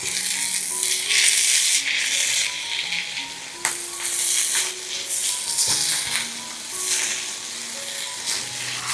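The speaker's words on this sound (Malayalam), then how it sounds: "മുട്ടയും കൂടെ ചിക്കി ഇതുപോലെ ഒന്ന് ഇളക്കി കൊടുക്കുക" Scrambled egg and soya chunks stirred in a hot pan, a close, steady sizzle with bursts of frying hiss and occasional spatula scrapes and taps against the metal.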